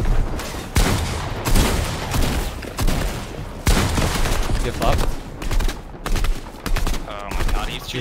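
Gunfire in Fortnite, repeated loud bursts and single shots in uneven clusters across the whole stretch, with chatter in the background.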